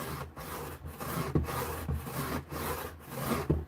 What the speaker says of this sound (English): I'm on a 200 grit here. I'm just getting me a good edge started, a nice burr.